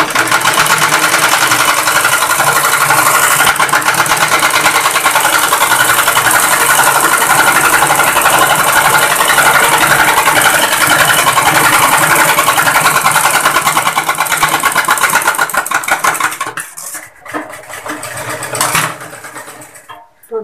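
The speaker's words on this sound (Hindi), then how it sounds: "आप इसी निशान पर स्टिचिंग कीजिएगा। आपको ऊपर से लाना है सिलाई को" A tailoring sewing machine stitches suit fabric in a steady, fast mechanical whir, loud and continuous for most of the span before stopping near the end, followed by brief handling noises.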